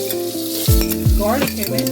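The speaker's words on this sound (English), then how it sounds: "You hear the sizzling sound" Zucchini stir-frying in a hot pan, a loud close sizzle with bursts of stirring and scraping, while a voice speaks briefly over it.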